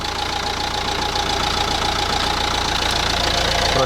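A repaired Renault Trafic van engine idles steadily at close range, a continuous even running hum with no talk.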